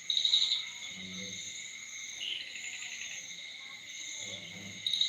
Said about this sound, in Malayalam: ചീവീട് കരയുന്നുണ്ട്